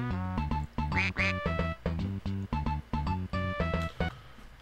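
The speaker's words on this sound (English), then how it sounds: "Oh, it's a duck." A cartoon duck quacks repeatedly in quick rhythmic bursts in the Dora the Explorer: Barnyard Buddies game on PlayStation, loud and close, layered over bright game music.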